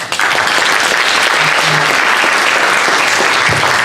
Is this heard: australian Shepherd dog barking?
no